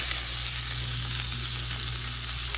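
Hybrid striped bass fillet sizzling as it sears in a hot pan, a steady, even crackle of frying oil close by, with no talk over it.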